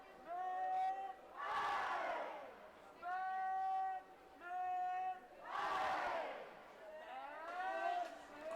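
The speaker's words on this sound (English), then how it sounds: "Crowd keeping themselves busy with cheers" Youth crowd at an under-17 ultimate frisbee final cheers and chants in bursts, swelling loud then dropping back, with shouted voices rising in waves across the stands.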